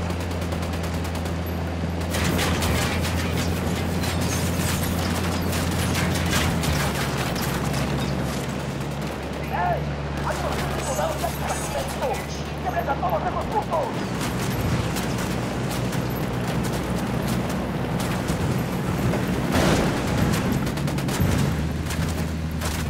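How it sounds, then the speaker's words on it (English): Gunfire rattles through a Ghost Recon Wildlands firefight, with sustained bursts and scattered shots over a steady low engine hum and occasional voices. "Opening fire on these shitheads."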